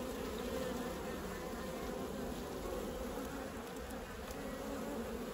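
Honeybees buzzing steadily and densely while a swarm is unpacked into a hive colony weakened by mites, a continuous close drone with no speech.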